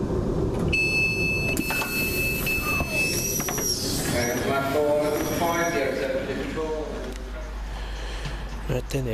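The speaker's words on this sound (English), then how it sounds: "here comes my train" A cross-country passenger service from Birmingham New Street to Manchester Piccadilly pulls into a station, its rumble and brake tones sustained and fairly loud, with a high pitched whine and announcement-like chimes, under people talking nearby.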